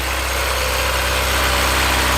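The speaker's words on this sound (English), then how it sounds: "Okay, so we have the car started up." A Honda S2000 idles steadily just after a cold start, with a constant, even engine drone that holds at the same loudness throughout and has no voices over it.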